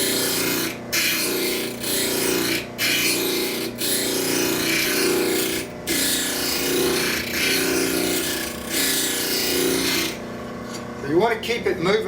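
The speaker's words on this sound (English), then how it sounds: "So you want to keep it moving on the grinder or you'll burn it." A spokeshave blade is ground on a bench grinder in a steady, raspy grinding hiss, broken by several short pauses as the blade lifts off, ending with a brief spoken remark.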